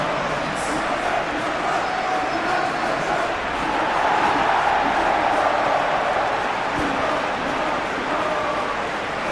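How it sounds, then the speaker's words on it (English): Stadium crowd in a Premier League football video game, Manchester United against Everton, a broad continuous roar with swelling chants and shouts, under a commentator's voice. "The crowd are calling for this to be put to bed."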